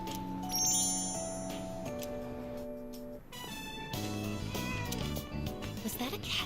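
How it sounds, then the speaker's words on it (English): A cat meows in the Persona 3 Reload video game, set over layered background music with bright chime-like tones, the meows clear against the melody. "Was that a cat's meow?"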